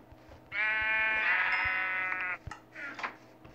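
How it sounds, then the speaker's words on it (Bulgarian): A sheep in the Minecraft video game gives one drawn-out bleat, clear and close, followed by a few short clicks and light game sounds in an otherwise quiet scene. "Овца, брат."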